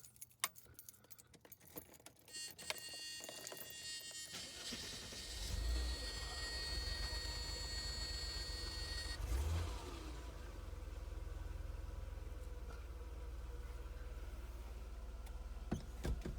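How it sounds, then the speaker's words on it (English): Mercedes W124 engine starting: keys jangle and click first, then a cranking catch and the engine settling into a steady low idle, with a brief rev partway through. "Start the engine."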